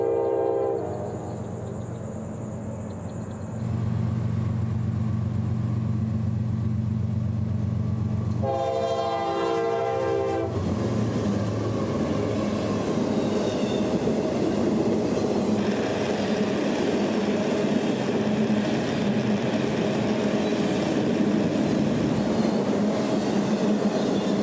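A CSX freight train approaches and rumbles past at track speed with steady clatter of wheels, its horn sounding loudly in a long blast before the cars roll on.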